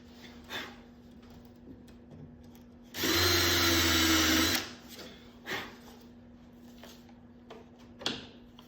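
A power drill whirs steadily for about a second and a half while boring into the wooden internal structure of a kayak hatch. Quiet workshop clatter and faint handling noises come before and after.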